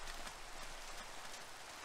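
Steady rain falls in a video game, a dense even hiss of drops that stays constant and fairly loud throughout, with no voices.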